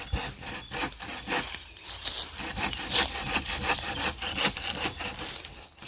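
A hand saw cuts a 45-degree angled notch into a standing tree trunk while felling it, the rough rasping strokes continuous and close, steady back-and-forth rhythm with no talking.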